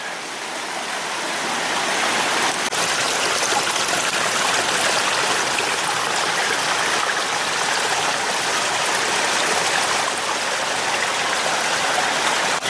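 A rocky creek flows nearby with a steady, full rushing and burbling of water that holds an even level throughout, with no voices.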